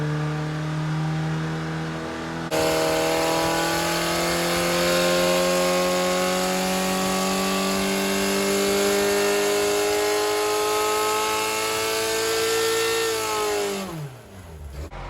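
A Ford Pinto engine with a 40/40 twin-choke carburettor revs up hard and holds a loud, rising roar with a throaty intake note, then drops away abruptly near the end.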